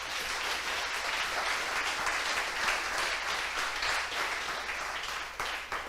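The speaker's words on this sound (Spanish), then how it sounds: "Vamos a recibir con un fuerte aplauso a Vincenzo Anza" Loud, dense applause from a demo day audience fills the whole stretch at a steady level, a thick wash of many hands clapping with no gaps.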